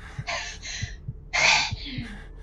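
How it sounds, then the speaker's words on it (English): Heavy, ragged breathing from a character in the horror video game The Evil Within, a few harsh close breaths and gasps in quick succession. "Stop breathing heavy."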